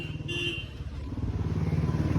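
A motorcycle engine idles close by with a rapid, pulsing putter, briefly blipped higher, then settles into a steady, throbbing rhythm.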